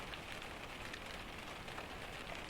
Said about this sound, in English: the rain is everywhere, and it is the only sound that matters now